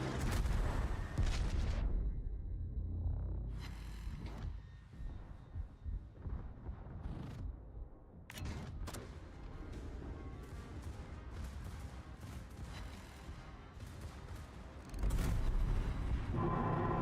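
Torpedo hits on warships in a naval battle video game, heard as heavy booming explosions with rumbling tails, several distinct blasts spread across the stretch and a loud hit near the end.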